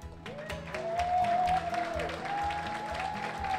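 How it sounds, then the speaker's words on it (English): Graduation crowd applauds veteran graduates of an automotive and diesel technician program, a steady wash of clapping with a sustained tonal hum running underneath. "please stand so we can give you a big round of applause"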